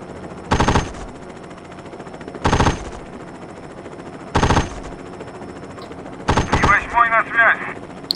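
A DShK heavy machine gun in a video game fires four loud, separate bursts spaced about two seconds apart, the last one followed by a rattling crackle of impacts, over a low steady background hum.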